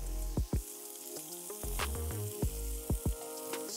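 Smashed burger patties with mustard sizzle and fry on a steel griddle, a steady close crackle broken by several sharp scraping and pressing knocks of a spatula, with no voices.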